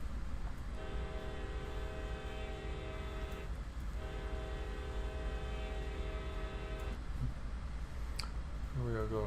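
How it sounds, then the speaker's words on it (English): A diesel locomotive horn in the Train Sim World video game sounds two long, steady blasts over a low engine rumble, with a brief pause between them. "We just need to sound our horn here again."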